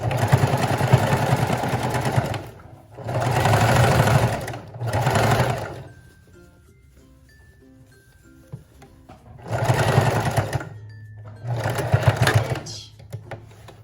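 A sewing machine hemming the skirt of a mini dress runs in several loud whirring bursts of a few seconds each, separated by quiet pauses with small handling noises.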